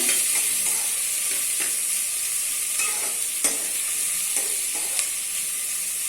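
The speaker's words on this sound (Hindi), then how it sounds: "जब तक प्याज गोल्डन ब्राउन नहीं हो जाते तब तक हम लोग उसको सौटे करते रहेंगे।" Onions sauté in a pan for a homemade chicken curry, giving a steady, close sizzle with repeated scraping stirs of a spoon at irregular intervals and no talking.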